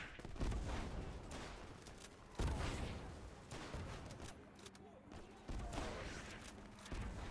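Mosin bolt-action rifle shots in Easy Red 2 at Stalingrad, a few heavy booming reports spaced seconds apart amid dense battlefield gunfire and rumble.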